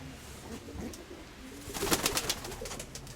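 Pigeons cooing and fluttering nearby, with a burst of rustling wing flaps in the middle over a soft low background hum.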